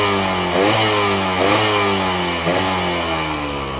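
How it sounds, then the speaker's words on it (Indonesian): Two-stroke motorcycle fitted with a racing exhaust, loud and close, revving repeatedly in three rising-and-falling blips over a raspy, buzzing idle, with no talking. "Coba kita gas ya."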